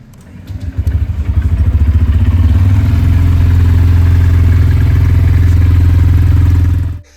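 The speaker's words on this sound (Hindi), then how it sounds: "मैं अगर आपको इसका एग्जॉस्ट नोट सुना के दिखा देता हूँ।" A Honda CB Hornet 125 motorcycle engine idles close by, its steady low, throbbing exhaust note rising slightly after starting and holding evenly for several seconds before cutting off.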